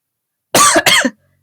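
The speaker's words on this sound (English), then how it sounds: "Every time I breathe in, that's when I want to cough." A person gives two sharp, close coughs in quick succession, loud and isolated against silence.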